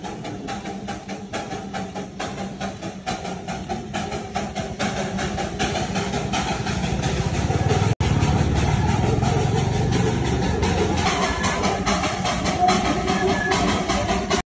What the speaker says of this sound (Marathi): बघितलं ते इंजिन कसं धुळकांड्या सोडत चाललेलं आहे.